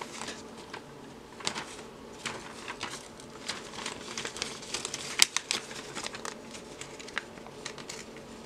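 A vinyl sticker peels off its backing, a faint, irregular crinkling and crackling with small sharp ticks and snaps spread throughout, close and quiet with no talking.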